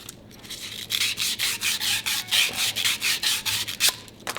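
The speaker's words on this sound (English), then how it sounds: "And then you're going to rough up the outside of your ferrule tube." Sandpaper roughing up the outside of a paddle's ferrule tube, about fifteen quick back-and-forth rubbing strokes in a steady rhythm, close and clear with no talking.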